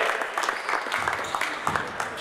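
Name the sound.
applause for a player at basketball clinic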